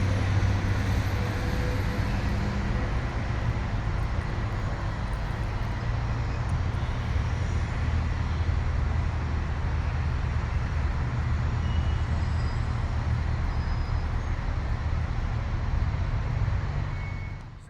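City highway traffic with cars passing, a continuous, dense low rumble of road noise that stays steady and loud from start to finish, with no voices.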